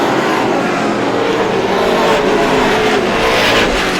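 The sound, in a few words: race cars on track at Star Speedway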